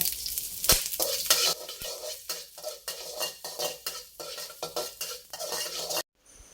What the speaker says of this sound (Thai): จากนั้นก็จะใส่กระเทียม กระเทียมสับนะคะลงไปเจียว